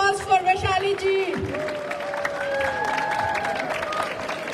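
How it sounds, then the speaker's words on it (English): Audience at a temple Independence Day celebration applauds for a dance academy introduction, crowd clapping mixed with a mic squeal and background voices. "Big round of applause for Vishali ji"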